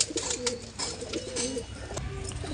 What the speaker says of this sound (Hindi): बहुत अच्छे कबूतर हैं भाई, वाइब्रेशन कर रहे हैं ये कबूतर